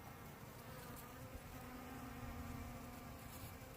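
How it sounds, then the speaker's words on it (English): Bees buzz in a busy swarm around dragon fruit flowers, a faint, steady, dense drone with occasional louder passes close by. "These bees are just going absolutely bonkers right now."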